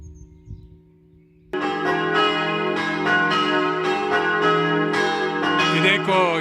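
Church bells from a large bell tower in Friuli Venezia Giulia burst into loud, rich morning ringing after a quiet moment of faint background noise, with overlapping peals sustaining steadily to the end.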